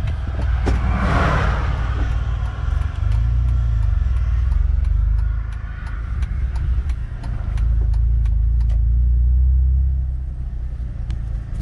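Car pulling up outside an auto detail shop, a steady low engine rumble and road noise from inside the vehicle, loud and continuous with a few light clicks, no talk.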